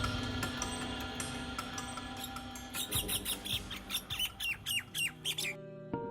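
A parrot in a Hindi cartoon moral story squawks in a quick run of sharp, repeated calls over steady background music, growing busier toward the end before cutting off.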